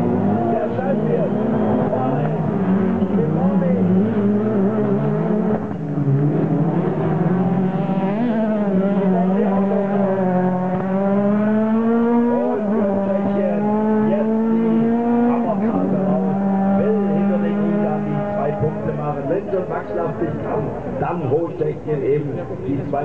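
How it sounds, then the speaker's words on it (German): Touring cars race around a hillclimb-style track in a competitive heat, engines droning and revving with rising and falling pitch, loud and steady throughout while a commentator speaks over them. "Er war zu schnell in der obersten Kurve und er steht, er fährt jetzt langsam."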